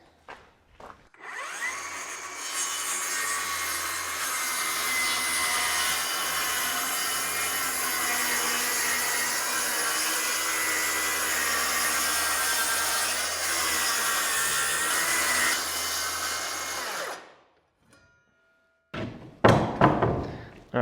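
A table saw fitted with a jig rips plywood sheets down to 14.5 inches, a loud steady whine lasting about fifteen seconds before cutting off, followed by a few thumps and knocks of boards being handled.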